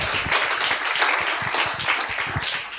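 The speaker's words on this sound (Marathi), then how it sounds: "आपल्या शालोम दादासाठी एक जोरदार टाळी वाजूया." A church congregation gives a hearty round of applause during a worship service, brisk close clapping with dense, steady hand strikes filling the space throughout.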